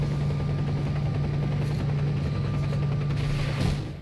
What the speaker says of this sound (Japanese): このヘリが敵をやってくんねえかな